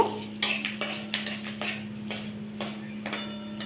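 Whole spices, dried red chillies and bay leaves crackle and clink as they are stirred in hot oil in a pan, with a run of sharp, irregular metallic taps over a steady low hum.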